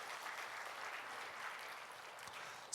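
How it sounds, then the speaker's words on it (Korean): A church congregation applauds the choir after a hymn, a steady wash of clapping held at an even level throughout, with no voices breaking through. "성가대 박수 한번 다시 한번 해주세요."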